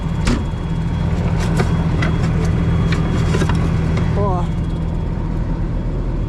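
A heavy diesel Claas tractor engine runs steadily up close in a frozen field, a low constant drone with a few clicks and a brief squeak partway through.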